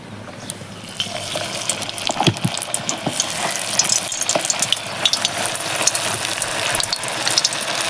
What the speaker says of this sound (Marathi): ते आता तेलात आपण तळून घेऊया।